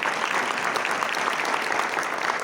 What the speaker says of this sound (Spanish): Pues bien, recibamos con un aplauso.